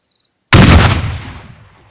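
A GP-25 underbarrel grenade launcher fires a VOG-25 grenade outdoors in a single sharp, loud report, followed by a rumbling tail that fades over about a second and a half.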